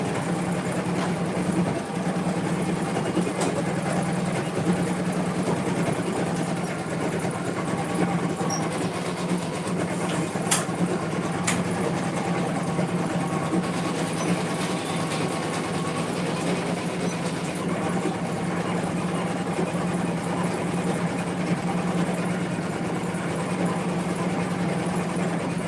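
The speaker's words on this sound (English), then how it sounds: "I'm going to take this back over to the machine and it's going to sew a line" An embroidery sewing machine stitching a line on fabric in a hoop, giving a continuous steady mechanical hum and rapid needle chatter that runs unbroken throughout.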